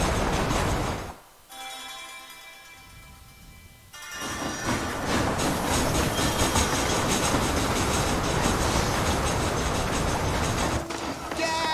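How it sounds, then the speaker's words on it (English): A train in Red Dead Redemption rumbles along steadily with a rushing, clattering roar that briefly drops away before picking up again and continuing loudly. "I know how to drive a train and everything."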